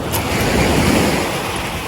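Ocean surf washes up on Pirate Glass Beach in Curacao, a steady close rush of breaking water with wind buffeting the microphone.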